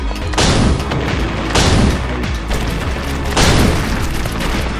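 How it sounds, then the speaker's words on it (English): Grenade launcher firing in the video game Perilous Warp: three loud, heavy booming blasts at uneven intervals over a constant dense roar of in-game combat noise. "Grenade launcher rules."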